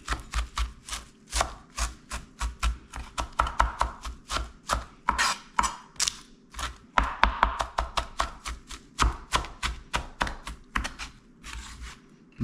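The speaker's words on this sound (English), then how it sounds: "I'm going to just chop it up real fine." A knife chops fresh parsley and cilantro on a cutting board, a fast run of crisp, evenly spaced taps that continues steadily and close-up without any talking.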